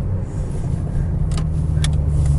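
A Ford Escort RS Cosworth driving on the road, its engine a loud, steady low rumble mixed with road and tyre noise, with a couple of brief higher-pitched spikes over the constant drone.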